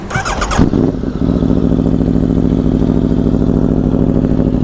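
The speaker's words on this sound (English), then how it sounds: "It sounds real nice and mean now, the way an exhaust for an RSV4 should sound." An Aprilia RSV4 motorcycle with a LeoVince Factory S aftermarket exhaust idles loud and close with a deep, throaty, steady rumble after a brief rev at the start.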